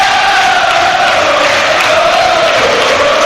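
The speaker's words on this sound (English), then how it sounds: "Well, just listen to the crowd around us now." Plymouth football fans roar in a huge, sustained wall of crowd noise at a stadium just after a goal against Southampton, loud and continuous with chanting swells and no commentary over it.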